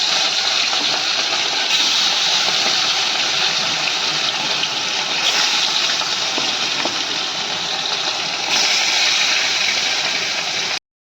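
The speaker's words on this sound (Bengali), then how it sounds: "এবার মাছগুলোকে ভেজে নিলাম।" Rohu fish pieces rubbed with salt and turmeric fry in hot oil in a kadai wok, making a dense, unbroken sizzling hiss close by for the whole stretch, with no voices.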